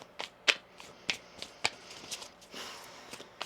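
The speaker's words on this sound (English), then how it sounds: "One more shuffle here." Quick crisp riffles of tarot cards being shuffled, a few sharp snapping bursts spaced irregularly, close and fairly quiet, with no voices.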